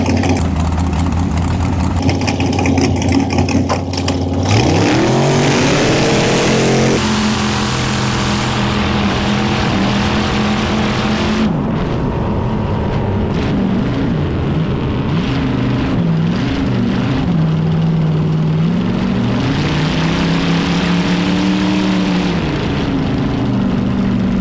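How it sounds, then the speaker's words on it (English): A racing boat motor running at a boat racing event, a loud, close, crackling roar that revs up sharply, holds, then drops and rises again in steady pitch sweeps. "We got the motor running right. It sounds real cackly and runs just like it did back in San"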